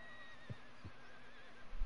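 A horse in the Red Dead Online video game whinnies in short bursts, with two brief low snorting pulses early and a stronger burst near the end over a steady background of game ambience; no speech.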